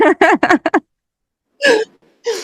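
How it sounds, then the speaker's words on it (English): During a recorded podcast conversation, a woman has a sudden hiccup. A quick flurry of voiced catches is followed by silence and two further short vocal bursts, all close to the microphone. "I just had a weird hiccup"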